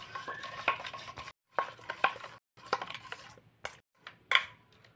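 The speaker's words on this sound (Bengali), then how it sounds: "এখন আমি লবণ চিনি শাকের সঙ্গে মিশিয়ে নেব।" Blended spinach being stirred with salt and sugar in a bowl, giving repeated wet scraping and clinking strokes in short bursts with brief pauses between, close and moderately loud, no talking.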